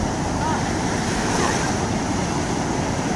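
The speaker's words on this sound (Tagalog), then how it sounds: "kung kailang susubok ang bangka, saka ang alon nagpapasigla" Sea waves wash around a small wooden boat out on the water, a loud, steady rush of surf and wind that carries on without pause.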